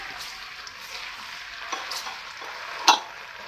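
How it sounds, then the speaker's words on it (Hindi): Garlic ginger paste fries in hot oil with a soft, continuous sizzle, a few stirring scrapes and a sharp clink near the end, moderately close and without talk. "लहसुन अदरक का पेस्ट शामिल करने के बाद अब मैं इसको फ्राई करूंगी।"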